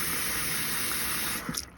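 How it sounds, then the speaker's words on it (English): An RV faucet flushes its lines after de-winterizing, a hissing spray of water that sputters and spits air in brief bursts near the end of a short, close burst of flow. "Just keep running it until you don't see any more of the jerky air."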